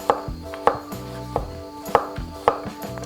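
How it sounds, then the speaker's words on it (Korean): A knife chops zucchini into small pieces on a cutting board with sharp, close thuds at a steady rhythm, roughly one cut every half second, with no talking. "갈기 편하게 작게 잘라주는 거예요"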